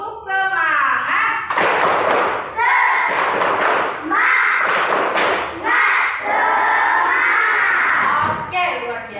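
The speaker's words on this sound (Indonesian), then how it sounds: "Tepuk semangat." Grade 4 and 5 pupils perform a rhythmic spirit clap in class, loud patterned claps and stamps alternating with group chanting in unison, several short bursts in a row.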